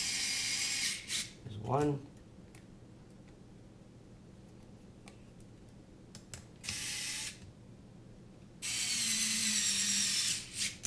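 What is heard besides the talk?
tightening the arms on a drone racing frame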